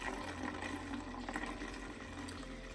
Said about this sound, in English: And then just gently pour in the milk.